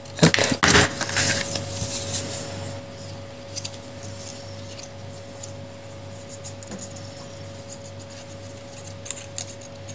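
Scissors snip paper scraps for a handmade card, a few sharp crisp cuts up front, then quiet rustling and light handling at close range.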